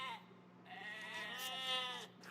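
A sheep bleats in a strategy video game on a rocky, peat-farm map: one wavering, drawn-out bleat lasting about two seconds, quiet and on its own.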